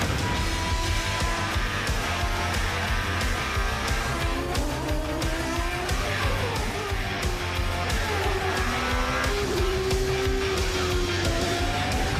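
IndyCar race cars at Barber Motorsports Park during the Children's of Alabama Indy Grand Prix, engines droning and shifting pitch continuously with whining gear changes, loud and steady throughout with no talking.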